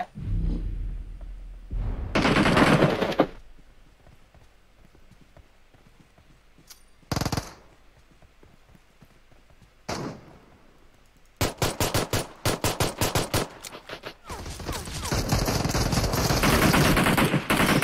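Thompson submachine gun fire in PUBG Mobile, coming in several separate bursts: short rattling volleys early on, then a long run of rapid shots near the end, with quieter stretches of game ambience in between.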